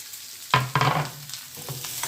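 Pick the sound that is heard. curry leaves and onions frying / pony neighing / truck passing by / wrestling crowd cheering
curry leaves and onions frying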